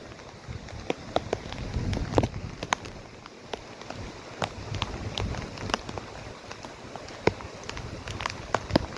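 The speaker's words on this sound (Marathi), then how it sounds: "पाऊस पडत आहे," Rain patters steadily in the Konkan hills, with soft continuous hiss and scattered sharper drops tapping nearby surfaces at a quiet level.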